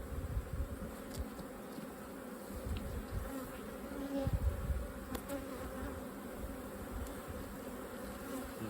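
Honeybees at an open hive drone in a steady, low buzzing hum that fills the clip, with a few brief louder passes close by and no talk.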